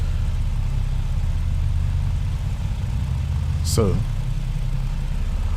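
Twin engines of a BN-2 Islander running steadily in Microsoft Flight Simulator, a loud continuous low droning hum with a brief high sweep near the end and a short spoken word at the start.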